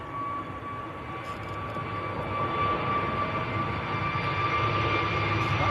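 An EasyJet jet airliner takes off at Manchester Airport with a steady, building engine roar that grows louder across the clip.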